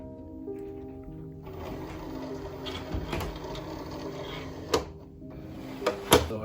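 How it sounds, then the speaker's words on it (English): A vinyl cutting machine feeds a sheet of holographic HTV, a faint mechanical whir with hums and a few sharp clicks and clunks near the end, heard close in a quiet room. "we're gonna take that over to the cutting machine and load"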